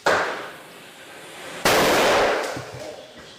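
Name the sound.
firecrackers going off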